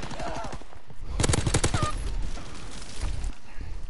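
Hip-fire shooting in a video game, a quick rattling burst of automatic gunfire near the start of the second second, with scattered shots and a player's voice talking around it.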